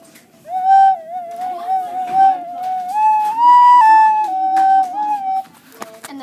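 A recorder plays the tune "It's Raining" with notes that sit too low. The result is a thin, wavering, breathy melody of held and shifting pitches, with soft tonguing clicks and some background noise, and no talking.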